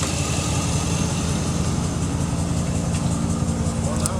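A car engine runs steadily, a dense low rumble filling the whole stretch without a break and with no voices over it.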